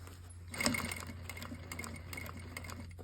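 A sewing machine runs over pins while sewing a set-in sleeve, giving a quiet, steady mechanical whir with a brief louder burst near the start and faint ticking throughout.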